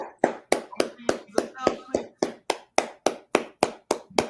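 A group claps in a steady, even rhythm, about three claps a second, each clap sharp and loud, at a religious brotherhood gathering.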